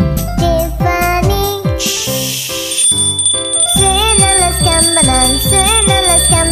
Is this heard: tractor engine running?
no